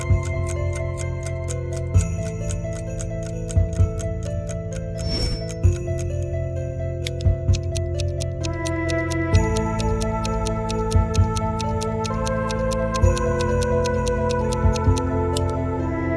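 Antique clocks ticking in steady, overlapping clicks, set against a continuous musical backing with sustained tones and occasional louder accents.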